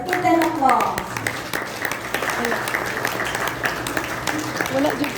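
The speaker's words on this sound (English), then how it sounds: "Let's give them applause." A crowd at a Kiwanis Club chartering and officer induction applauds the newly installed officers, with continuous loud clapping from a room full of people and voices chattering underneath.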